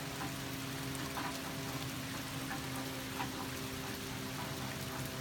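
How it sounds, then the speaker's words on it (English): Continuous soft patter of chilly rain falling in Arkansas, steady and even throughout with no voices, accompanied by a faint low hum. "It is raining and chilly."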